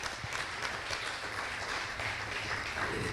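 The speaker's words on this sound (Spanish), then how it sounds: "Dale ese aplauso al Señor." A church congregation applauding the Lord during a Spanish-language service: a continuous wash of many hands clapping, fairly faint and distant, steady throughout with no talk over it.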